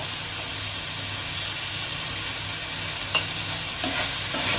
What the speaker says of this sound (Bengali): দিয়ে একটু সময় আবার নাড়িয়ে নেব।